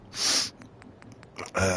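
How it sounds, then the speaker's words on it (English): Allergy sniffling: a sharp, breathy sniff, a few faint nasal snorts, then another strong sniff close to the microphone. "So that's why I'm sniffling."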